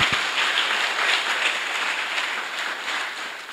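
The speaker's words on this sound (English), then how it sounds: "So give a clap offering to yourselves for coming." An audience claps together in a steady, dense wash of applause that goes on without a break. It fades slightly toward the end.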